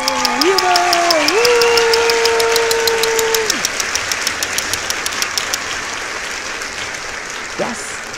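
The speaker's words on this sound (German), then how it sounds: "Und ihr habt euch auch nochmal einen großen Muschelapplaus verdient." Cheering and rhythmic clapping close a children's song about seashells by the sea. A loud, whistle-like gliding tone slides over the clapping at first. Then steady, evenly spaced claps continue alone.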